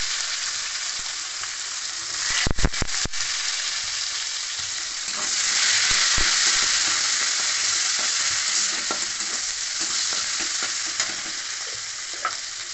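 Chopped garlic and raw onion hit hot oil with five-spice seeds for a soybean mustard curry, a sharp spatula clatter then a loud continuous sizzle with occasional stirring taps.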